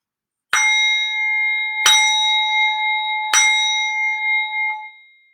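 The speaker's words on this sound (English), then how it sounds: "listen to the sound of my singing bowl" A singing bowl is struck three times at even intervals, each strike a bright metallic ding that rings on with a long, clear, shimmering sustain in a quiet room.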